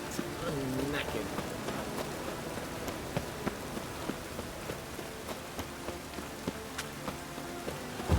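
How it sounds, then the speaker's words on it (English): Steady rain falling in The Witcher 3, a soft continuous hiss with scattered drip-like ticks, faint and constant throughout with no talking. "And it's raining again."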